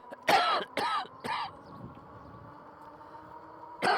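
Harsh coughing fit from someone who choked on water going down the wrong pipe: three loud close bursts in quick succession, then a quiet pause and one more cough at the end.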